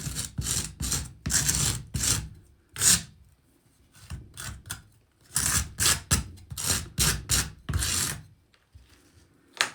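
A vermiculite repair on a wood stove panel is scraped level, producing bursts of rough, close rasping strokes separated by short pauses.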